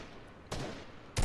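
Gunfire in the video game Fortnite: two sharp broadband bursts, one around the middle sustaining briefly and a louder one at the end, with no talk over them.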